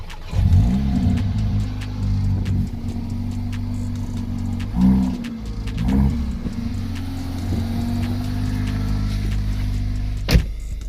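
Mercedes A45 AMG engine starting up for the first time after a blow-off valve install, a loud steady idle with low harmonic drone, a few blips of revving around the middle and a sharp burst near the end.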